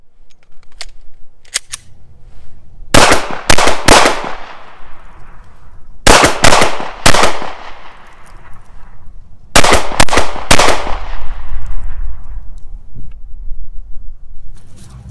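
An FN 509 pistol fires rapid shots at an outdoor range in three quick clusters of loud, sharp cracks, each burst followed by a brief echoing tail and a lull before the next.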